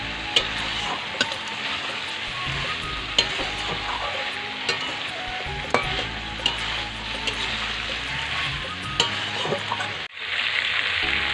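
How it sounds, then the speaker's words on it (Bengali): Cauliflower and potato, already fried, are sautéed with spices in a pan: a steady loud sizzle runs throughout with periodic scraping stirs, then cuts off briefly before resuming. No speech. "তাই আমি আলু ফুলকপিটা আগে ভালো করে ভেজে নিয়েছিলাম, এখন ভালো করে কষিয়ে নিচ্ছি মশলা দিয়ে"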